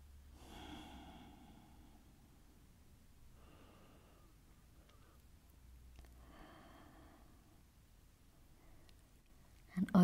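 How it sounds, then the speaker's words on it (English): Slow, deep belly breaths during a yin yoga practice, several soft airy inhales and exhales spaced evenly, close and quiet, ending with a brief louder rustle. "Six more full belly breaths."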